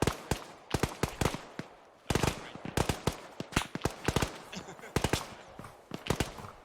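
Rapid bursts of gunfire in the Arma 3 video game, several volleys of sharp, loud shots in quick clusters with short gaps, some close and some more distant, continuing throughout.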